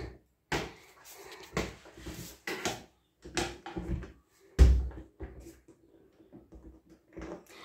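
A door in a werewolf story is knocked on or banged in several separate bursts, with a loud thud near the middle and a few softer hits toward the end, all without speech.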